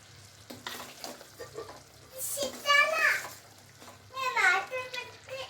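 Semolina is tipped into hot sugar syrup and stirred in a pan, with soft scraping and wet sizzling bursts heard mostly beneath someone talking throughout.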